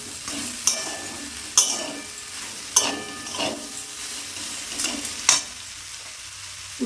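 Cauliflower and potato seasoned with salt and turmeric are stirred in a frying pan, with several sharp scraping strokes of the spatula at irregular intervals over a soft, constant sizzle.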